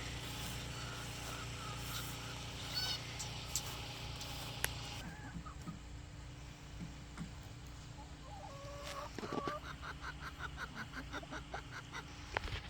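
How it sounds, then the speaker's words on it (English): Free-ranging chickens cluck and murmur outdoors on a homestead at moderate distance, scattered soft calls over steady background noise, with a few sharper squawks toward the end. "The chickens, of course, are all free ranging."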